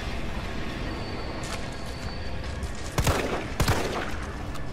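Gunfire in the Resident Evil 3 Remake video game: two sharp bursts of shots ring out about two seconds apart over a steady bed of game ambience and music, with a fainter shot at the very end.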